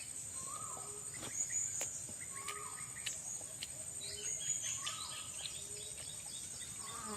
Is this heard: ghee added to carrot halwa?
no